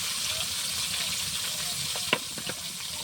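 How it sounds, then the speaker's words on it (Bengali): Fish fillets frying in hot bubbling oil, a steady close sizzle throughout with a few sharper crackles and pops near the end. "সুন্দরভাবে তেলটা ফুটছে, মাছটা একটু ভাজা হয়ে যাবে"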